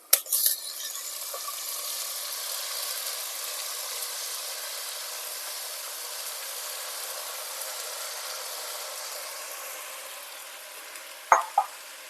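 Drumstick leaves fry in oil with onions, a continuous bright hiss of sizzling that fades slightly over time, with clattering stirring strokes at the start and near the end.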